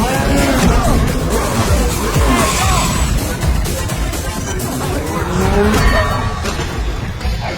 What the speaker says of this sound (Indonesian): muncul Langos Bros dan langsung menyerang Joe menggunakan motor mereka.